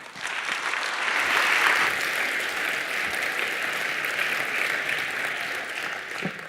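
Warm applause from a seated audience at a church talk welcoming a speaker onto the stage, a steady wash of clapping that swells early and holds, with a brief voice near the end.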